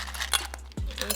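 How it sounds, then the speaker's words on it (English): Ice drops into a cocktail shaker with a short clatter of hard clinks, close and brief, over a low steady hum. "Starting off with our ice"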